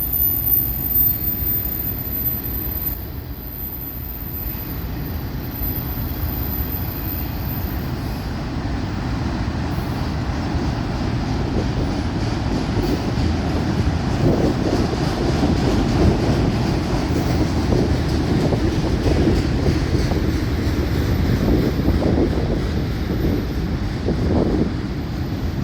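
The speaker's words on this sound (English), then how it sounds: "Second train of 2025 already." An FECR freight train hauling auto racks rolls past near St. Augustine on New Year's Day, a long steady rumble with rattling wheels that swells slightly toward the end, no talk over it.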